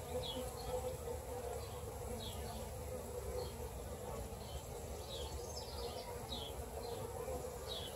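Honeybees buzz steadily at the crowded entrance of a backyard hive in June, a dense, continuous hum with scattered higher wingbeat passes and faint bird calls in the background.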